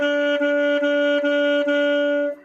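A soft saxophone tone played with gentle 'do' tonguing holds one steady pitch, with about six smooth re-articulations in an even pulse before it fades at the end.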